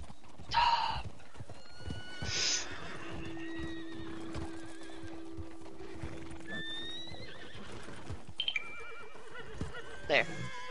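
In Red Dead Online, a horse whinnies in several loud bursts spread across the stretch, with soft hoof clip-clops and a quiet background tone between them; a person talks briefly.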